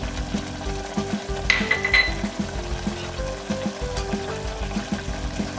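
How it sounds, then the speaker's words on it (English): Ground spices (jeera, dhania, garam masala and turmeric) sizzle in a pot for matar paneer while being stirred, with a steady frying hiss under rhythmic scraping stirs. "Let's give it a quick stir."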